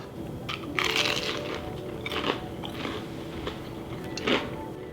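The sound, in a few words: biting crunchy fried turkey tender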